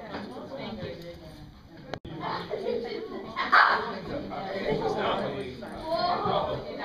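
A dog barks a few times amid people talking nearby at an outdoor animal blessing at an Anglican church, with one sharp click partway through and a busy, lively background.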